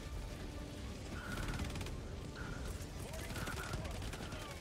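Machine gun sentry in Helldivers 2 laying down sustained rapid automatic fire amid a busy battle mix, with steady dense crackle and bursts running through the whole stretch.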